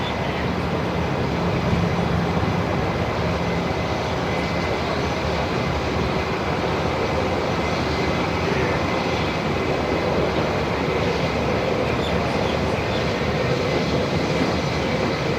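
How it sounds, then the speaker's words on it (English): A Boeing 717 airliner in Tassie Devil livery moves at Melbourne Airport, producing a loud, steady broadband engine roar that holds evenly from start to finish without a clear rise or fade. "there we go, another 717. The Tassie Devil livery"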